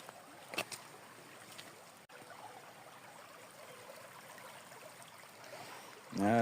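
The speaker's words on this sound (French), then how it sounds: "je vais aller me foutre les pieds dans l'eau" A river flows with a soft continuous rush and trickle, a few splashy knocks early on as a hiker on the Camino Primitivo steps in, and a brief louder burst at the end.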